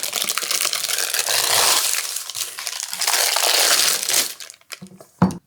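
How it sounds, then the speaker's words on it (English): Tahini, date and chocolate fudge is peeled from its pan on parchment, giving a loud, continuous crackling, crinkling rustle that swells and fades for about four seconds, then tapers off into a few brief handling knocks. "And now, we can just peel this off."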